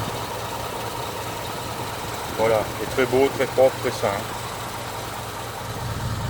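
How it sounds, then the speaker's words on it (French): A 1950 Mercury 8 four-door sedan engine idles very quietly, a low steady hum that runs throughout while someone speaks briefly over it in the middle. "ce moteur, on l'entend à peine. Il est en marche, je vous l'assure."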